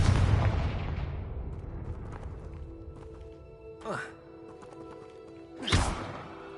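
The Confringo blasting spell in Hogwarts Legacy, a heavy booming explosion at the start that rumbles and decays, followed by two shorter whooshing bursts with fiery crackle.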